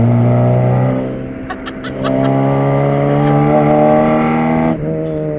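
An Opel Kadett GSI drives along a road, its engine note holding steady and close with a brief dip in revs and a gear change near the end; no talking.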